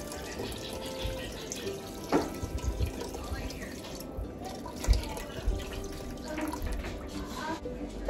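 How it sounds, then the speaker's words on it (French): Water pours into a pot of beef couscous stew broth, a continuous splashing trickle with scattered drips and small bursts, close and moderately loud over a low background hum. "Je vais rajouter de l'eau, un petit peu d'eau."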